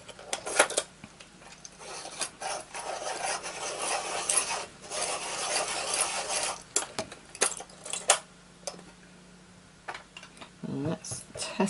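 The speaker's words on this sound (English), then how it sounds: "Sharpen up." A coloured pencil, a Derwent Lightfast, is sharpened in quick rasping, scraping bursts that come and go close by, with short pauses between strokes.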